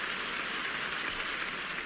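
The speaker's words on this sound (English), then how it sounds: "Freaking round of applause at the beginning of every episode" A round of applause from a podcast audience, a steady, even wash of clapping that holds at a constant level for about two seconds, with no voices over it.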